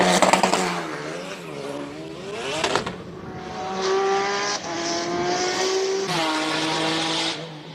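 A race car with a massive rear aero wing climbs a hill climb course at a King of the Mountain event in Cape Town, its engine rising through several gear changes with shifting pitch, loud and fairly close.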